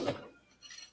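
A metal spoon clinks against dishes while a dishwasher is loaded, with one bright clatter at the start and then faint rattles, close by and quiet.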